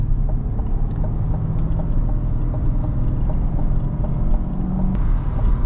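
C8 Corvette Stingray coupe engine droning steadily from inside the cabin while driving in traffic, a low continuous hum with faint road noise and no talk.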